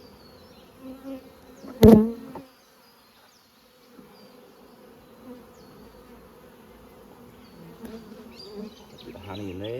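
Honey bees buzzing around nucleus hives being moved into 9-frame supers at Coramba, a steady low hum with individual bees droning close by, one sharp knock near the start and faint handling noises.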